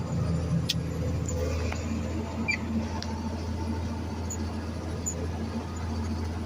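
A tractor cruising in 8th gear at about 1700 RPM through a dry field sends out a steady low engine drone from inside the cab, with faint rattles and squeaks over it.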